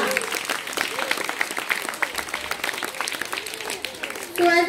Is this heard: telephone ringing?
no